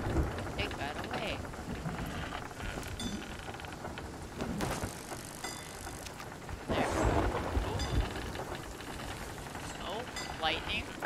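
Stormy weather in the pirate video game Sea of Thieves: steady rain hiss with rumbling thunder swells, loudest near the middle, under intermittent voices and game sounds.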